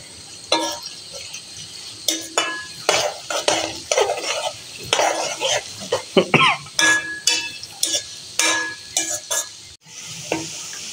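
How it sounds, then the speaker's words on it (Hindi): Onions frying in a pan, stirred repeatedly with a utensil scraping and clinking against the pan in short bursts, over a faint sizzle close by. "प्याज को करेंगे फ्राई।"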